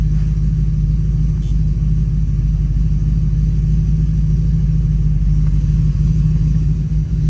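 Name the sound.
car engine idling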